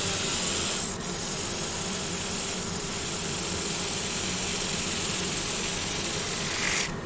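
Steady whirring rasp of abrasive paper against a wooden bowl spinning on a lathe at 1300 rpm, with a constant machine hum underneath, continuous and close for several seconds.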